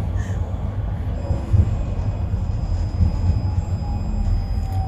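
A Moscow tram rumbles steadily along with low, continuous rolling noise and faint rail hum, with no talking.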